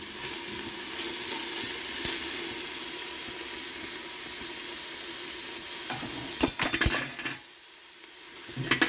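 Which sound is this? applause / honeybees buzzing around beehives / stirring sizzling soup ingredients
stirring sizzling soup ingredients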